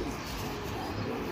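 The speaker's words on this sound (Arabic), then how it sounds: "حمام سكة." Domestic pigeons in a loft coo softly against a dense, steady background hiss, in a very short stretch with no talking.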